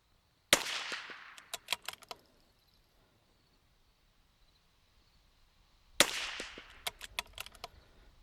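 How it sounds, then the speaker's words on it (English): Two sharp rifle shots several seconds apart from a kneeling shooter firing a five-shot group, each a loud close crack followed by a ringing echo and a rapid series of faint reflected clicks fading out. "We're shooting 5-shot group, and we're just kneeling this time."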